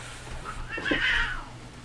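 A cat gives a single drawn-out meow, close and fairly loud, rising and then falling over about a second against a low background hum.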